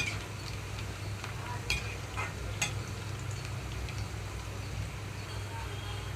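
Cabbage 65 fries in oil on a medium flame with a low, steady sizzle. A few faint clicks and taps cut through the bubbling now and then.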